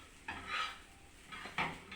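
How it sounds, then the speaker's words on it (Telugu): Salt and chili powder are stirred into hot oil in a pan, giving a few soft scraping strokes over a faint sizzle. "నూనె వేడెక్కినాక ఉప్పు కారం మంచిగా వేసుకొని కలుపుకోవాలి."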